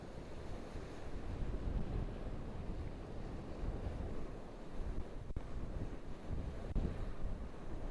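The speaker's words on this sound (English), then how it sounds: "it's howling wind" Strong wind howling and buffeting the microphone on the coast at Witches Point, South Wales, while fishing, a constant loud roar mixed with crashing surf, with no talking.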